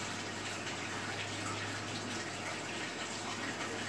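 Loud, steady running water pours into a 220-gallon American cichlid tank during maintenance, a broad unbroken rush up close with no voices.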